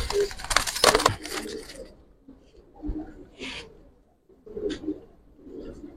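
Giribaj pigeons, a male and a female, coo softly in short low murmurs with a burst of wing flutter and scuffling at the start, close and fairly quiet.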